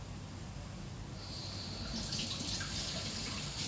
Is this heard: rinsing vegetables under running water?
yes